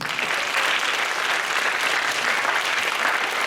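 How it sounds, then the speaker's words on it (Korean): Dense, steady applause from a young congregation at a Friday chapel service of a Daejeon campus Christian fellowship, a continuous wash of many hands clapping at even loudness throughout with no voices over it. "제 말에 동의하시는 분만 하나님께 박수 한번 치세요"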